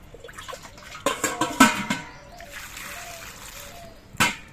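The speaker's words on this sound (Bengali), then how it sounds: "এই কচুরলতিটা কিন্তু অনেকবার করে ধুয়ে পরিষ্কার করে নিতে হবে" Taro stolons are rinsed under a kitchen tap, with several close splashes and sloshes followed by a softer running trickle and a final splash.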